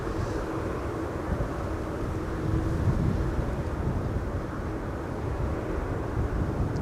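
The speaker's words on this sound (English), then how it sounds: "The 747 has already passed the runway and is taxiing to its parking." Airliners at Schiphol's Buitenveldertbaan runway, a steady distant roar of jet engines blending with broad wind-like rumble throughout, with no talk.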